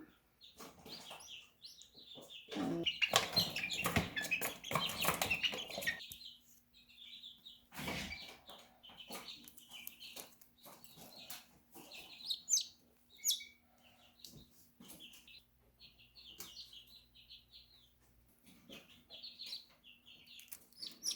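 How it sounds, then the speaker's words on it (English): Small white birds in a garden game chirp and tweet in quick, faint bursts, scattered over a long stretch with a denser flurry early on and quieter calls later. "It's another little white bird."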